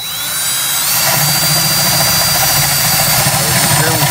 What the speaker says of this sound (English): my dad's going to go ahead and drill the hole through here,